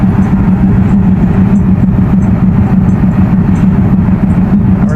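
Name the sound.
Nakshikatha Express train departing the station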